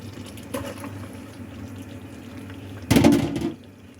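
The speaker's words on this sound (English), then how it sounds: "I think it's time to put our pasta back in." Pasta shells tumble into a pot of boiling water, a brief watery splash and clatter rising from a low steady simmer, then settling back to the quiet bubbling.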